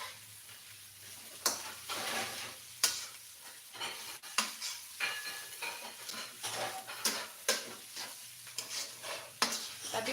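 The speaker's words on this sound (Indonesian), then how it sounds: "Kita bikin nasi goreng merah guys." Red fried rice (nasi goreng merah) being stir-fried in a wide pan, with a steady sizzle under repeated scraping and clanking of a utensil against the metal, nearby, continuous and without talk.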